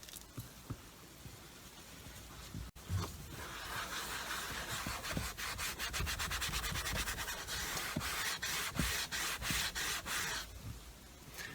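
A sponge rubs shoe polish onto a car dashboard, giving a steady close scrubbing and squishing sound with rapid back-and-forth strokes that run for several seconds after a brief pause.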